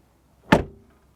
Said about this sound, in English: And door closing sound,